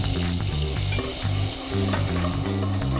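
Butterland margarine, about 35 grams, melting in a pan and brought to a hard bubbling boil, giving a steady close sizzle and crackle with spatula stirring throughout.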